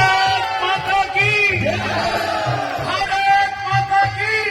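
A large crowd at a Hindu devotional music event roars and shouts loudly, a sustained wash of cheering voices with whoops rising over a steady rhythmic beat.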